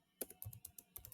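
A prompt is typed on a computer keyboard in a short run of soft, quick keystrokes, faint and close, with no other sound.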